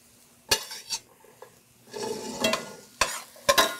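Beans and softened vegetables stirred together in a pan for spiny lobster cassoulet, with several sharp utensil scrapes and knocks against the pan over a low sizzle, close and without talking.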